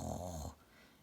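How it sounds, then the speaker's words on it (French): A storybook ogre from Le Petit Poucet lets out a short, deep, growling roar close by; the rumbling snarl lasts about half a second and then cuts off to near silence. "Soudain, on entend l'ogre rugir tout près."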